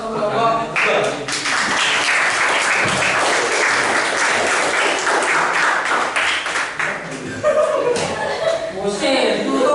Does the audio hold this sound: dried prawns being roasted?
no